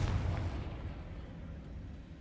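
A Confringo fire spell explodes in Hogwarts Legacy with a loud burst at the very start, then a low rumbling decay that fades over a couple of seconds.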